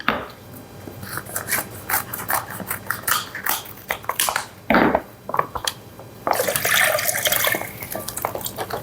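Water splashes and pours into a pot of beef rib soup broth in irregular bursts, with clinks and handling noises between pours and a longer steady stream near the end.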